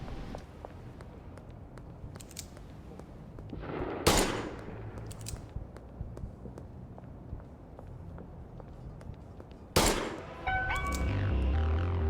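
Gunshots in a video game: two loud, sharp bursts about six seconds apart, the second followed by a rumbling tail, standing out over a low, busy game background.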